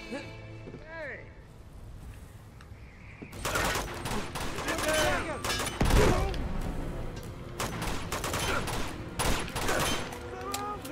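Gunfire in the video game Uncharted 2, a rapid crackle of shots breaking out after a quieter start and continuing in irregular bursts and heavy impacts, with voices speaking over the action.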